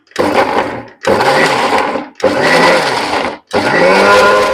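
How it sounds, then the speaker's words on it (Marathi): A mixer grinder whirs loudly in four short bursts blending sweet potato and milk, each a few seconds long, with brief pauses between, and no talking. "आता आपण हे मिक्सरमधून फिरवून घेणार आहोत"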